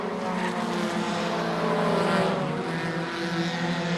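A race car on a short oval track roars steadily through a slick corner in the closing lap, engine note loud and sustained with a faint tire hiss.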